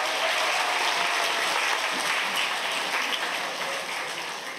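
A church congregation at a Sunday morning service breaks into applause. The thick, continuous clapping starts loud and fills the whole stretch, easing off slightly toward the end, with no voices over it.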